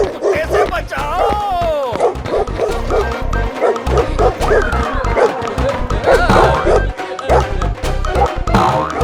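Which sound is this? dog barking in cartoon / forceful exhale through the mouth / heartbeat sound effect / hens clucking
dog barking in cartoon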